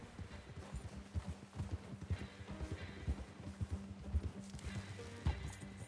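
Horse hooves clip-clop at a steady gait in Red Dead Redemption 2, close and moderately loud among other game sounds, with brief snorting.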